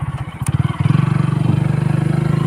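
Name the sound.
motorcycle riding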